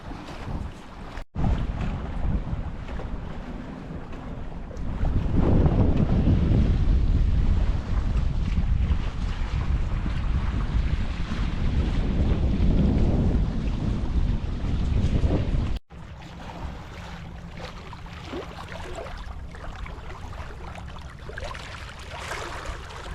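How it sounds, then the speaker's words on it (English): Strong wind buffets the microphone while a sailing boat moves through water at about 6 knots on Brisbane Water, with gusts rising and falling and a steady rush of water beneath. "Getting some nice gusts through here."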